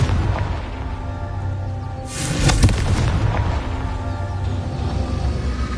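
A Confringo blasting spell goes off in Hogwarts Legacy, one sudden booming explosion with a bright crackling burst that fades into a rumbling tail, set against continuous game ambience.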